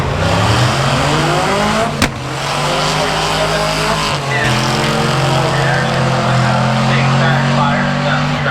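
Two Chevy pickups drag racing side by side on a strip at the Duct Tape Drags, loud engine roar sustained throughout with a sharp transient near two seconds, crowd or announcer voices faint beneath.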